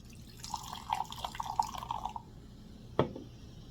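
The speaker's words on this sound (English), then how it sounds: "Give that a little pour." Hard Mountain Dew is poured into a glass, a quiet trickling splash lasting about two seconds, followed by a single sharp clink or tap, heard close and alone.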